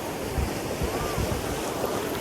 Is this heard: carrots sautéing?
no